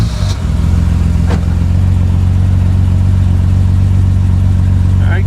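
A BMW M6 inline-six 24-valve engine idles loud and close with a steady low rumble and a brief blip of throttle early on, no talking over it.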